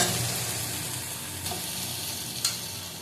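Chicken pieces hit a pan of cooked-down spice masala and fry with a steady, close sizzle, broken by a couple of sharp stirring clicks near the middle and end.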